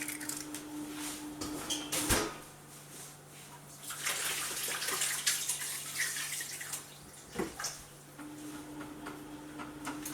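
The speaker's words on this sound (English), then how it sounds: "I'm going to go wash my hands quickly" Tap water runs into a kitchen sink while hands are washed after handling raw eggs, a soft, steady splashing rush that briefly cuts off and resumes, with a low hum in the background.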